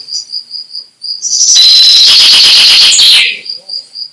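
A whistled imitation of a common chaffinch song by a puppetry performer: a rapid, dense trill lasting under two seconds, loud and close, over a steady high insect-like drone.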